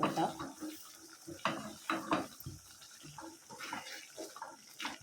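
A spoon scrapes and clinks in a pan as mussel pickle is stirred. The sounds are quiet and intermittent, a handful of sharp metallic knocks set against a soft background.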